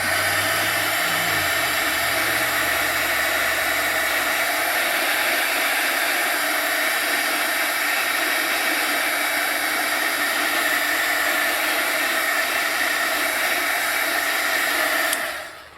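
Heat tool blowing hot air to melt embossing powder on wire mesh, a loud steady whirring roar held close for about fifteen seconds before cutting off at the end.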